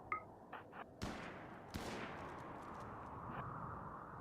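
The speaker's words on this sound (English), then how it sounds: "Let's get a little bit closer so our shotguns can hit them." Shotgun blasts from RimWorld combat, a few sharp loud bangs followed by a long noisy decaying tail, with softer thumps and clicks before them.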